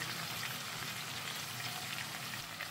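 Chicken coated with ginger garlic paste frying over a high flame, a steady dense sizzle that fills the whole stretch at moderate, even loudness, with no voices over it.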